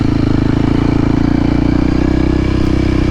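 A dual sport motorcycle rides off-road, its engine droning loud and close with a steady low rumble and some clatter throughout, with no voices over it.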